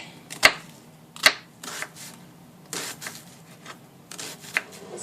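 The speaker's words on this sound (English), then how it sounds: "And now I'm just going to chop the onion into a small dice" A knife dicing an onion into small pieces on a board in a home kitchen: sharp, irregular chopping knocks, some louder and some softer, close up and spaced unevenly, with no talking.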